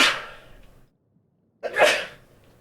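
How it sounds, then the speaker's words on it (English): A single loud sneeze bursts out near the end, preceded by a sharp breathy intake and sniff and a short moment of silence, close to the microphone with no speech. "I need to heckin' sneeze one out"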